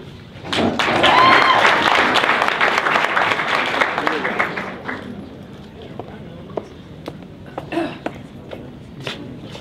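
An audience at a student government forum applauds loudly in a crowded hall, swelling at the start and tapering into scattered claps and thumps, with voices talking over the tail.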